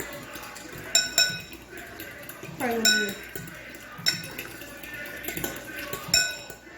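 Mixing gravy for oxtails in a bowl with a whisk or fork, sharp metallic clinks and taps against the bowl in irregular bursts, close by, with a person talking in between.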